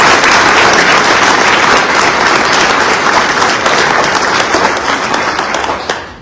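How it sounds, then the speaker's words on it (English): Loud, sustained applause from an audience at a Central Bank Utah economic outlook presentation, honoring speaker Natalie Gochnour; dense clapping fills the room steadily before tapering off at the end. "Let's give her another round of applause."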